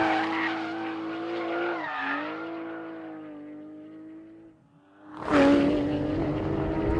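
A rear-engine, four-wheel-steer sports car on 305-section rear tyres revs hard toward 9,000 RPM, its engine note climbing loud and close, dipping briefly, then surging again with a harsh, rising roar.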